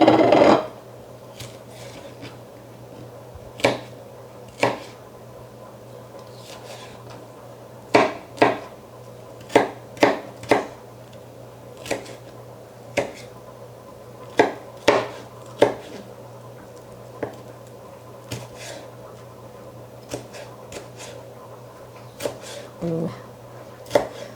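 A knife chops bell peppers into similar-sized chunks for chili on a cutting board: a series of sharp, irregularly spaced knocks, some in quick pairs, over a low steady hum.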